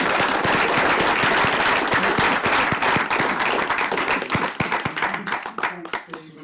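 Applause from an audience at an evening talk on artists against fascism, a dense run of clapping that thins into scattered separate claps toward the end, with a crowd murmuring underneath.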